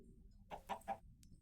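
A chicken in a survival video game gives three quick, faint clucks in a row against quiet background noise.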